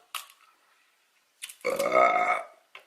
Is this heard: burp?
yes